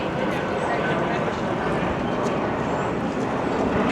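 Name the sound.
aeroplane flying overhead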